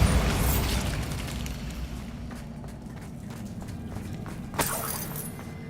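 Bombarda spell explosions in Hogwarts Legacy: a loud booming blast up front trailing into rumbling debris and clattering mechanisms, with a second sharper burst near the end.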